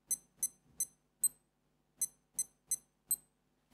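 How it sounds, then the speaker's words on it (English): A series of short, bright electronic beeps from a G-Shock digital watch menu, eight in a row with even spacing and one higher-pitched tone among them, in a quiet room. "When you go through the menu, it beeps"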